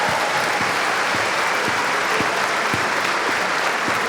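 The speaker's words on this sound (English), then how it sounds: "That gets a round of applause for our FaceTime challenge." Dense, steady applause from a large live rugby show audience of around 1200 fans, loud and continuous with scattered sharper claps throughout and no talk over it.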